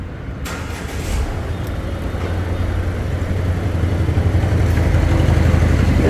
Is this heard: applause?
no